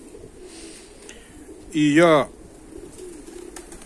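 Fighting pigeons in Tbilisi give one loud, close, throaty coo lasting about half a second, with a hoarse edge, set among quieter room noise and a brief spoken word.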